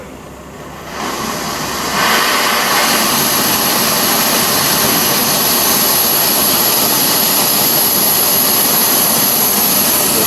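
An Ozark Trail 4-in-1 camp stove burner is opened up from a low hiss to a loud, steady, close roar that holds at full flame under a titanium canteen pot.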